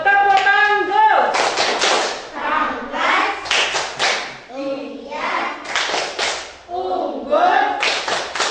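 A class of fifth-grade children in a school classroom claps in rhythmic bursts, with sharp hand claps mixed among their raised, chanting voices, in close, loud, repeating patterns.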